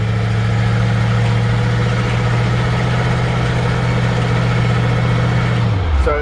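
A 1954 Ford F100 truck drives along with a steady engine drone, carrying a faint power steering whine and whir on top throughout, before the engine note drops away at the very end.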